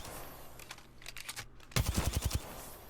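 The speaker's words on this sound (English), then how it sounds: "So if I just shoot a few rounds and let go" Gunfire in the video game Apex Legends: a short rapid burst of several shots, loud and punchy, comes after a stretch of quieter clicks and tapping, with no voices.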